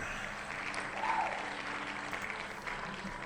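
Steady applause from a crowd, a continuous patter of many hands clapping at moderate volume with no pauses.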